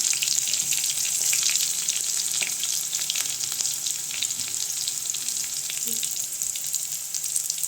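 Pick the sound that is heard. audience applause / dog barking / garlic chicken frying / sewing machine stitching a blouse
garlic chicken frying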